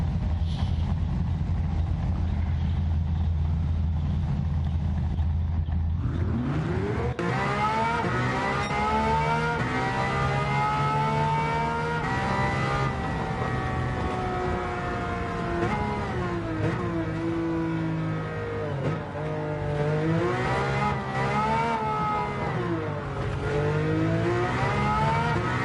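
Race car engine in Gran Turismo 7 revving loud and close, climbing and falling through the gears over a steady low engine drone across about 25 seconds, with no talking.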